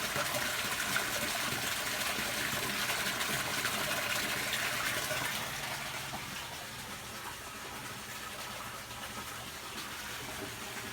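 Water draining from an aquaponics grow bed, a steady rushing gush that drops to a softer, continuous trickle about halfway through, close and moderately quiet.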